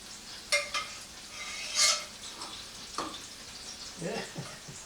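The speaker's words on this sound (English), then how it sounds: "I'll spoon some of the" A spoon scrapes and clinks in a pan while butter mixture is basted over salmon and fennel, faint sizzling beneath a few scattered metallic taps and soft spoon strokes.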